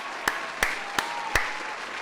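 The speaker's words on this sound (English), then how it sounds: "I basically just put gunshots into my microphone by clapping that hard" Four hard, sharp claps land close to the microphone at a steady, slightly uneven pace, each a loud crack like a gunshot, during a Magic: The Gathering Tarkir: Dragonstorm commander stream.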